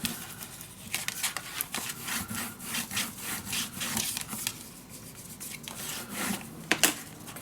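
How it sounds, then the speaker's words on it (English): Scrapbook paper for a winter mini album being burnished down with a tool along its fold lines gives repeated close, dry rubbing strokes in a steady back-and-forth rhythm, with no talking. "And burnish it down."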